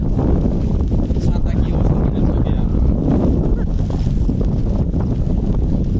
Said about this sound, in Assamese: তামাম বতাহ আহি আছে